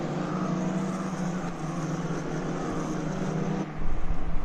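F4 race cars on the Red Bull Ring running together behind the safety car, a continuous loud engine drone from the pack that swells slightly toward the end, with no talk.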